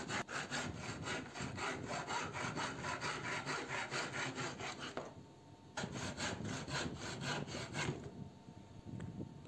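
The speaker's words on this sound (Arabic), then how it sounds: "بنبتدي نقطع نساوي حروف الخشب" Rapid, regular saw strokes rasp up close while squaring the edges of scrap wood, stopping briefly twice and then continuing at the same brisk pace.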